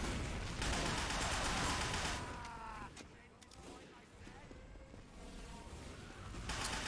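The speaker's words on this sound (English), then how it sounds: "This is the nail gun, by the way." In the video game Team Fortress 2 Classic, a nail gun fires in rapid, crackling bursts that run loud and continuous, dip briefly in the middle, then pick up again.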